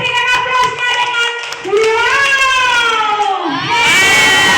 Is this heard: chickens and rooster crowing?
no